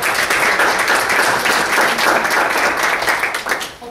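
An audience at a university gathering claps loudly and continuously for presenters from an International Food Expo, a dense close applause that fades slightly at the end.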